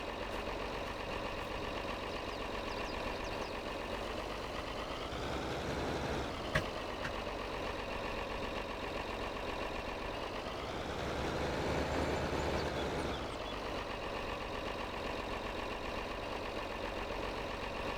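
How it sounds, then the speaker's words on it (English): Truck engine idling in a farming simulator game, a steady low rumble throughout with two brief swells in revs, no talk. "I hate that the game makes you start the engine to drop the ramps."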